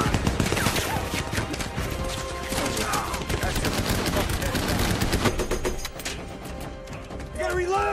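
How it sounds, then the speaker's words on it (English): Dense gunfire and machine-gun bursts from a World War II tank battle scene, loud and continuous with sharp rapid cracks, mixed with shouting voices and battle noise. "start shooting"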